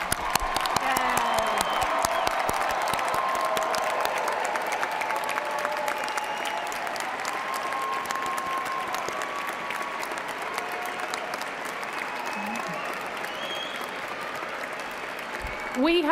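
Loud, sustained audience applause for the newest College of Health Sciences graduates at Eastern Kentucky University's fall convocation, steady dense clapping from a large crowd filling the hall for the full length, swelling slightly at the very end.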